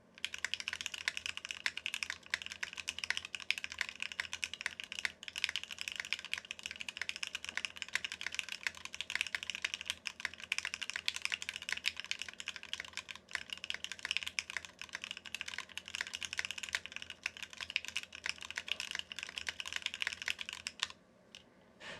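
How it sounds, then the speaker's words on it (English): Fast continuous typing on a Rooke Design Chapter One mechanical keyboard fills about twenty seconds with dense, close clacking keystrokes and occasional brief pauses, with no voices over it. "we'll do another typing test"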